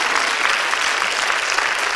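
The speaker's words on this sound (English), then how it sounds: "Someone should have clapped right there." Dense, steady audience applause fills the space continuously at a loud level, a broad wash of many hands clapping at once during a church-style talk on dating advice.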